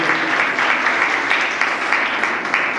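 A crowd at a school STEM workshop applauds steadily and fairly loudly, dense clapping running throughout with no break or voices on top.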